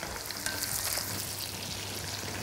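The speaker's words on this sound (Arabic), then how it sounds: "ونقلب، وهنسيب البصل لحد ما يبقى لونه لون الكراميل" Chopped onion fries in hot oil in a pan, a steady close sizzle with light scraping from stirring throughout, no voices.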